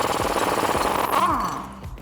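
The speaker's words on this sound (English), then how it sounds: "a 19mm socket in my impact wrench to remove the hardware that's holding on our U-bolts" An impact wrench fitted with a 19mm socket loosens rusty U-bolt hardware on a Toyota Tacoma. It gives a short burst of rapid hammering, loud and close, that tails off within about two seconds.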